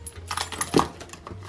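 Keys dropped into a bucket bag give a single bright metallic jingle and clatter, close and moderately loud, with a faint rustle of the bag around it and no talking.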